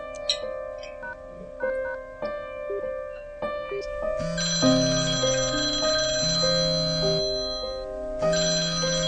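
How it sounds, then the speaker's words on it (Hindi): A phone ringtone chimes on and on with no one picking up, a tinkling melody that swells fuller partway through and keeps repeating. "साहिल फोन नहीं उठा रहे हैं।"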